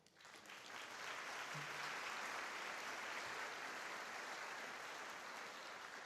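An audience at a university convocation applauds to welcome trustees. The clapping swells quickly from a few hands into steady, full applause filling a large hall, then stays even to the end.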